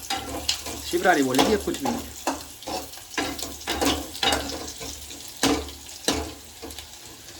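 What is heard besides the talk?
tadka, onions frying and browning in oil in pan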